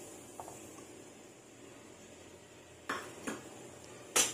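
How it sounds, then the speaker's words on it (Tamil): A metal spoon stirs one cup of semolina as it roasts in ghee in a kadai, while Rava Kesari is being made. Faint background sizzle is broken by a few sharp scraping clinks of metal against the pan near the end. "இப்போ அதே கடாயில அதே நெய்யில நம்ம ஒரு கப் அளவுள்ள ரவையை வறுத்து"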